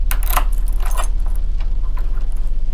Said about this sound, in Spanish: se escucharon las llaves en la puerta